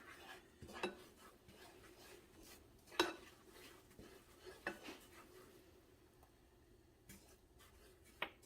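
Creamed spinach stirred in a pan with a utensil: soft scraping with sparse, sharp clinks of metal against the pan at irregular intervals, fairly faint, no talking.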